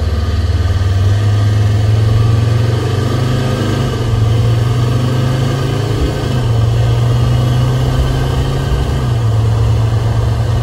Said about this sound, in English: Got here our prototype test vehicle, Land Rover Discovery TD5 engine with a ZF 8-speed auto transmission.